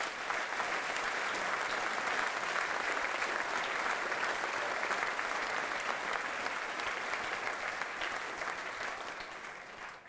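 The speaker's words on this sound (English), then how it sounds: "So give yourselves another round of applause" A large audience at a rugby league club evening in a hotel function room applauds steadily, a dense, sustained wash of clapping that holds at even loudness for about ten seconds before easing slightly at the end.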